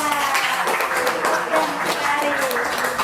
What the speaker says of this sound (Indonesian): tepuk tangan dong buat kita.